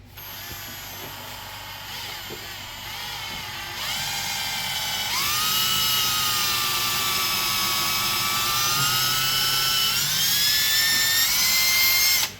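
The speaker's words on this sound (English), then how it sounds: "we're gonna slightly pre-drill these just to make the screws go in easier" A steady high-pitched power drill whine runs continuously while pre-drilling screw holes in a truck's behind-the-seat speaker box, rising in pitch as it speeds up, loud and close with no talking.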